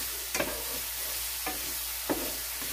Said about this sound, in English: I've got some mushroom frying up here, sauteing.